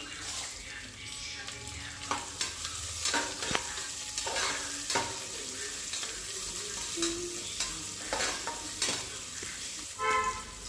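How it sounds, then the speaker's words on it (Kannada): Chopped onions fry with whole spices in a pan for ghee rice, giving a constant close sizzle broken by repeated scraping stirs at an uneven pace, with a faint voice now and then. "ಈರುಳ್ಳಿ ಹಸಿ ವಾಸನೆ ಹೋಗೋವರೆಗೂ ಫ್ರೈ ಮಾಡ್ಕೊತಾ ಇದ್ದೀನಿ"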